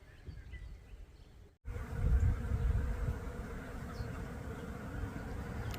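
Honey bees swarm around a tree, a dense steady buzz that swells loudly after a brief pause and holds on, with faint birdsong in the background.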